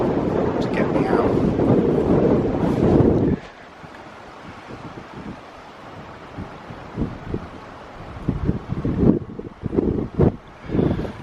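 Strong wind buffets the microphone outdoors for about three seconds in a loud roaring rush, then gives way to quieter gusts and intermittent thumps.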